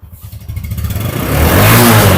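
A TVS Apache motorcycle engine idles with a rough putter, then revs up and climbs into a loud, sustained roar close by, with no talk over it.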